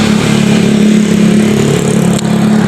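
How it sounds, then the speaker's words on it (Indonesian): A Vespa scooter's small two-stroke engine runs close by while being tuned, a loud buzzing idle that wavers unevenly, heard alone. "Ini temen aku Anton lagi nyetel karena motornya gak tahu kenapa kayak berbet"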